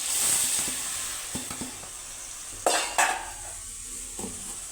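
Masala sizzling in a pan for a black-eyed pea curry, a steady frying hiss broken by scattered ladle taps and a couple of louder metallic scrapes against the vessel, close, with no talking.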